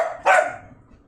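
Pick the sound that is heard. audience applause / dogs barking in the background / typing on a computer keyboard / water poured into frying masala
dogs barking in the background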